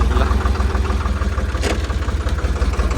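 A tractor engine runs steadily throughout as the tractor turns around, a deep rumbling idle with rhythmic low thumping and a brief louder rattle midway.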